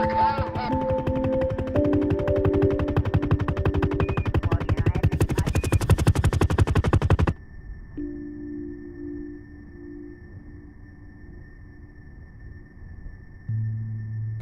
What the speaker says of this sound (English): a strafing run with the missiles